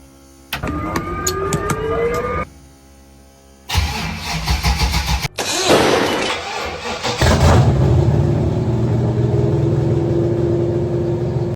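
A square body truck on 44-inch tires cranks over, fires up and revs, the engine growling loud and close before settling into a steady idle.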